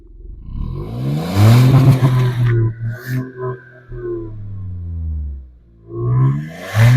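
A Hyundai i20 N Line engine revs hard several times close by, rising and falling in a throaty swell, pausing briefly, then building again at the end.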